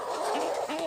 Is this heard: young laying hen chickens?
yes